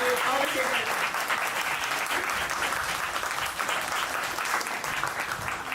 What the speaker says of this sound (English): please give a round of applause to all the shapers